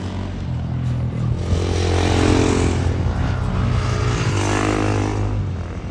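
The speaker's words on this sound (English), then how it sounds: "Just had some vehicles pass through." Vehicles pass along a dirt road through a desert canyon in Anza-Borrego. Their engines make a loud, close, continuous roar that swells in the middle and eases off toward the end, with no talk.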